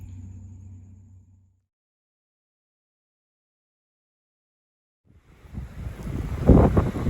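Heavy wind buffets a microphone on a shore: a low rumbling gust at the start, then near silence, then a rising, roaring blast of wind noise toward the end, with no voices.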